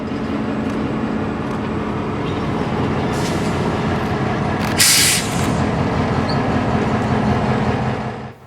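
A KCS locomotive works the south end of Heavener rail yard at night, its diesel rumbling steadily and loudly, with a sharp hiss of air brakes partway through before the sound fades out, no talk.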